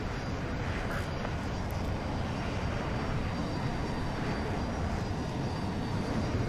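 Su-57 Felon fighter jet engine in the video game Battlefield 2042, a steady, loud broadband roar with a faint high whine, continuous for the whole stretch with no talk.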